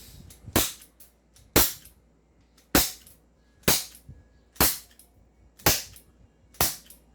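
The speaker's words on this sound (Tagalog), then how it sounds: "ang ating revolver, ipa-fire ngayon ni Luke." Toy revolver firing caps, seven sharp loud cracks at roughly one-second intervals, close and alone between shots.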